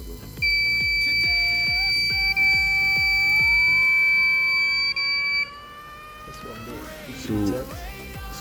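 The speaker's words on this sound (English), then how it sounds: "the buzzer is going to be going off." A buzzer on a homemade radar motion detector sounds as a long, steady electronic tone that holds for several seconds, with rhythmic mechanical ticking underneath and a brief voice near the end.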